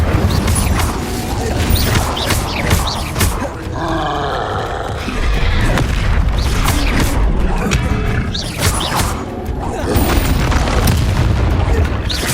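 Incendio fire spells cast in Hogwarts Legacy come through as loud booming, roaring magic bursts, layered with dense combat effects and creature growls that continue without pause.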